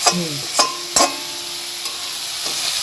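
Sweet baby corn is stirred and fried on high flame, with a few sharp scraping stirs in the first second and a faint sizzle underneath, all close up and without speech.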